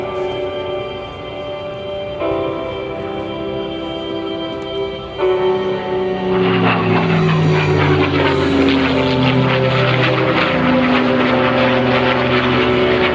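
A propeller aircraft makes an inverted pass at an air show. The engine drones steadily and loud, then the pitch slides downward as the plane passes close and moves away.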